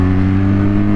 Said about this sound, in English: It's got that nice exhaust note.